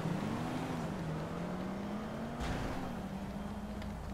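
A Saturno car in GTA V drives with a steady engine drone whose pitch wavers gently up and down, fairly quiet and continuous, with a brief whoosh midway and no talk.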